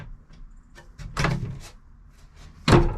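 A cedar plank door in a GMC Safari camper van swings shut and latches, giving two separate knocking thuds, the second sharper and louder, with quiet handling noises between them.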